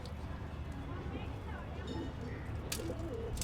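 A female pigeon coos softly and repeatedly while being fed grain, the low murmuring calls sitting under steady nearby talking.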